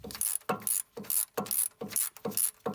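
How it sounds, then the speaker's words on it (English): Ratchet clicking in repeated strokes as it loosens the 14 mm oil drain plug on a Nissan G35/350Z raised on ramps, about six quick, evenly spaced bursts of metallic pawl clatter, close and clear. "begin by removing this 14 millimeter oil drain plug right here"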